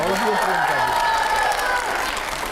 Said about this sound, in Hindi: इसके लिए जोरदार तालियां हो जाए